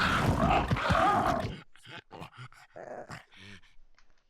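Creature noises from a bulb dog in the video game ARK Ascended: a loud stretch of growling and roaring, then a series of short grunts and yelps broken by brief pauses.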